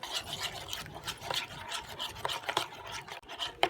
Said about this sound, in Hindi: ये 1 कप दही, सारे मसाले इसमें हम ऐड कर देंगे। ये देखें, अब हम इसको करेंगे अच्छी तरह मिक्स।